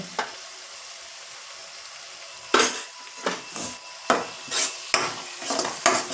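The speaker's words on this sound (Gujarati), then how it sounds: "હળદર નાખી આપણે મિક્સ કરવાનું છે" Curry gravy being stirred in a pan after turmeric goes in, with a faint sizzle beneath a series of close spoon scrapes and clinks that come in short irregular bursts.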